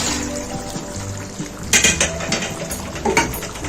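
Water is poured into a cooking pot of rajma lobia curry and stirred, with metal utensil clinks and scraping against the pot and some liquid sloshing, ending in a few sharper clatters.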